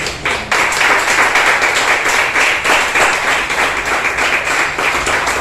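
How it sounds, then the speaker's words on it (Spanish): Congregation at a Sunday church service claps together in a loud, sustained burst of applause filling the room, with a slightly rhythmic pulse and no talking. "¿Cuántos dan un aplauso al Señor por eso?"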